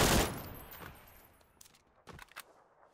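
Gunfire in PUBG, a burst of shots at the start fading into the distance, then a few sharp, faint cracks near the end, no voices.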